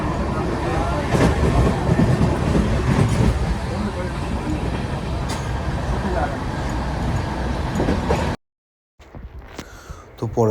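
A passenger train runs on its rails, heard from inside a carriage: a loud, steady rumble with rhythmic clatter that cuts out briefly near the end and then resumes, with faint voices in the background.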